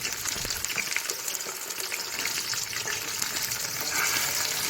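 Chicken is added to light-browned onions in a pan, giving a steady, close sizzle and hiss of frying that carries on without pause.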